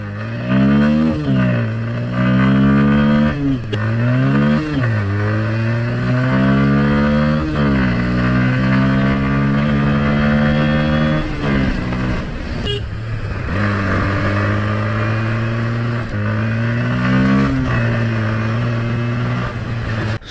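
A Bajaj Pulsar N160 motorcycle engine revs loudly and up close, rising and falling through repeated throttle blips and climbing pitch sweeps, with a brief pause midway before revving resumes.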